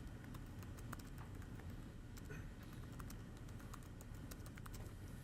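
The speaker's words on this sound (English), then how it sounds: "Sorry, I'm typing in answers to the online audience." Fast, irregular typing on a computer keyboard during a seminar on e-commerce, quiet close clicks over a faint room hum.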